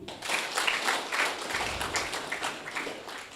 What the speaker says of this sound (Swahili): hebu tujipigie makofi